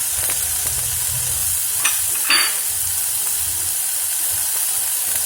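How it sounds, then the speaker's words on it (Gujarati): Boiled peas with red chilli powder and turmeric roasting in a pan, a steady loud sizzle and hiss with a couple of brief stirring scrapes, close and with no talk. "હવે તેને 2 થી 3 મિનિટ માટે આ રીતે હલાવતા તેને શેકી લઈએ।"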